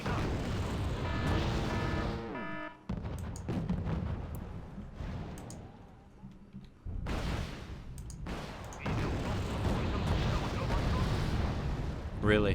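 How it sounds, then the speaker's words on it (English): Autocannon fire in Wargame: Red Dragon, a real-time strategy game set in a Second Korean War campaign: heavy booming bursts and blasts rise and fall in waves over a steady rumble, with talking mixed in. "the autocannon's just so impressive here"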